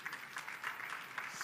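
Audience at a church fundraising event applauding, a faint, even patter of many hands clapping in the distance for a brief moment, without any voices over it.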